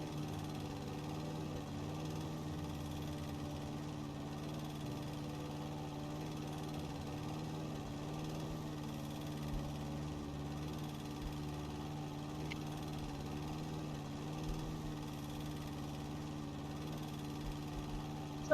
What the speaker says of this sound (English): As you can see, the tree makes it quite hard for the mower to operate.